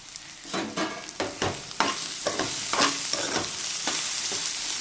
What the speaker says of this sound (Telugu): ఒక్క నిమిషం అలా ఫ్రై అయ్యేలాగా లాస్ట్లో స్ప్రింగ్ ఆనియన్స్ వేసుకోండి